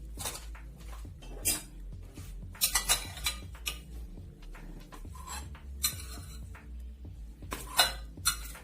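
Soft clinks and knocks as a serving plate is handled, scattered taps of ceramic and cutlery with quiet gaps between them, close by.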